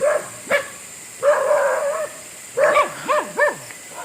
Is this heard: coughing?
no